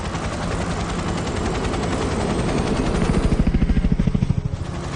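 Helicopter in flight, climbing toward 5,000 feet to get above bumpy air, its steady loud drone turning into a strong rhythmic rotor chop over the last seconds, with no talking.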